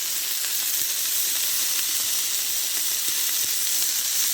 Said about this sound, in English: Sizzle-tastic.